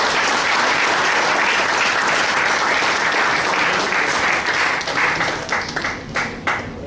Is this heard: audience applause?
yes